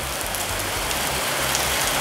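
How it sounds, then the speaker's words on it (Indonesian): Steady rain falls outside a car workshop, a constant close hiss of drops on surfaces running unbroken throughout with no voices. "Wah, hujan repotnya."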